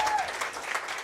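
A crowd at a women's football semi-final, a Deakin University Division 2 match, breaks into applause and cheering, a brief burst of clapping at moderate distance with a thin whistle at the start.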